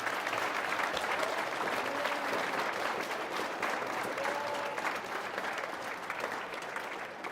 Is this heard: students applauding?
yes